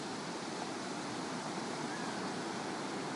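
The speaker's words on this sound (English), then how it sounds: "and the sounds of the surf" Ocean surf on the Southern California coast makes a soft, steady wash of waves, faint and continuous, with no voices.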